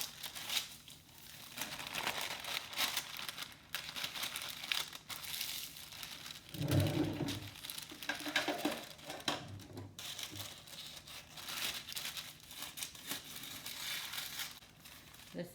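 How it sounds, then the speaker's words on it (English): Parchment paper crumpled and crushed by hand for recycling in a home kitchen after baking persimmon cookies, a long stretch of close crinkling and crackling with a louder burst midway. "I'm just going to recycle this parchment"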